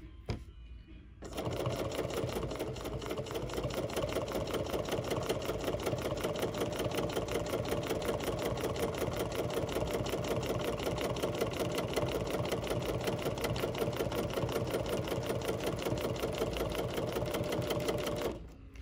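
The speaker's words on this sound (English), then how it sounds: "practice that moving the fabric slowly through the machine and increasing the speed of the motor" A BERNINA sewing machine fitted with an echo quilting foot stitches continuously at a fast, even rattling pace for most of the stretch, loud and close, starting after a short pause and stopping just before the end.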